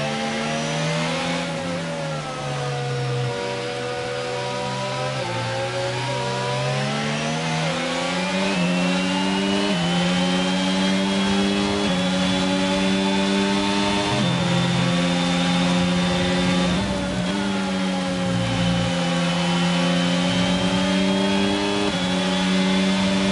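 Race cars in a racing video game at Silverstone whine on without pause, the engine pitch rising and falling through gear changes in a loud, steady stream with no talking.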